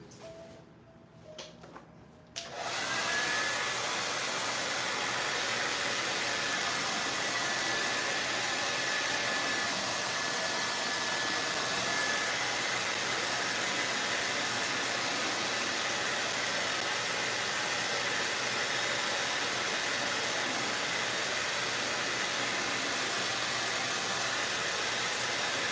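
A hair dryer blows loud and steady over a painting, a constant close-up whoosh that starts after a brief quiet moment and runs unbroken to the end.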